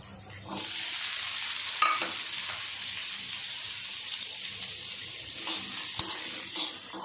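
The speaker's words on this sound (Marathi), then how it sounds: "आणि आता शेंगदाणे टाकूया" Peanuts frying in hot oil in a pan while being stirred, a steady broad sizzle with scraping stir sounds throughout, close and moderately loud, with no talking.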